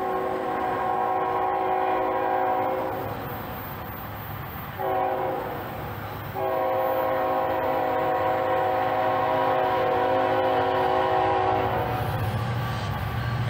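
Intermodal freight train rounding a curve as it approaches, sounding long, loud multi-tone horn blasts broken by short gaps, with the rumble of the rails beneath.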